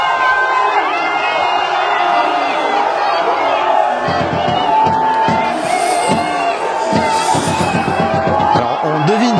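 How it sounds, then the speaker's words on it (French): A large stadium crowd of PSG supporters at Parc des Princes cheers and roars in a dense, continuous wall of noise, with rising whoops and shouts, under a voice speaking over it. "Attention, l'excitation de la foule."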